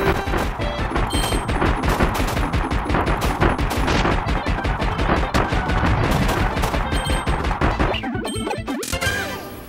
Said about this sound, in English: now we're up to the cannon